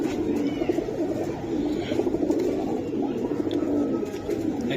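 A crowd of pigeons kept for sale, including fancy breeds, coo continuously in low, throaty, overlapping calls close by.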